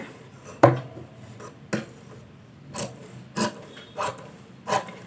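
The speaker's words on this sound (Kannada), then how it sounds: "ಇಲ್ಲಿ ಕೆಳಗಡೆ ಬಟ್ಟೆ ಎಕ್ಸ್ಟ್ರಾ ಏನಿರುತ್ತೆ ಮೇನ್ ಕ್ಲಾತಿಂದ ಇದನ್ನು ಕಟ್ ಮಾಡ್ಕೊಬೇಕು ನೀಟಾಗೆ" Scissors cutting away extra blouse cloth below the main fabric, a series of about seven separate crisp snips spaced roughly half a second to a second apart, close and fairly quiet, with no talk.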